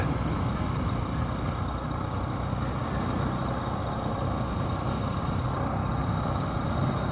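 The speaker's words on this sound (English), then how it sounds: "I'm varying the throttle and the RPM" A 2023 Honda CB125F motorcycle fitted with a Yuminashi 28mm throttle body runs steadily up close, a dense, even engine drone with little change in pitch or loudness throughout.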